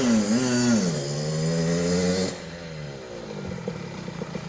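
A Kawasaki KX65 dirt bike engine revs up through the gears with a rising, buzzing whine, then drops off to a rougher, quieter putter nearby.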